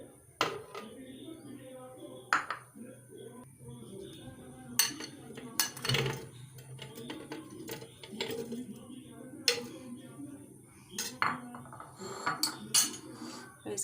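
Strawberries dropped into a grinder jug in a home kitchen, heard as scattered clinks and knocks of fruit and utensils against the jug, moderately close, with quiet background clatter between the louder hits.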